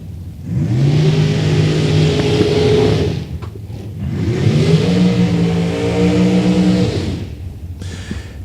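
A Corvette revs hard at a drag strip, two long loud engine pulls rising in pitch, each holding for about three seconds before cutting off, close and clear with no talking.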